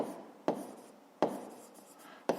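A pen scratches handwritten numbers on paper during a 5th-grade maths exercise, quiet, close strokes with three sharp taps as the tip meets the page.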